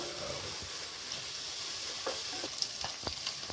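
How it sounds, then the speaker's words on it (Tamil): Paneer frying in hot oil, a soft steady sizzle with occasional light clicks and stirs, fairly quiet and close, no talking. "எண்ணெய் போட்டு நல்லா சூடாக இருக்குங்க பன்னீர் போட்டுக்கலாம் பன்னீர் போட்டு ஃப்ரை பண்ணி எடுத்துக்கலாங்க"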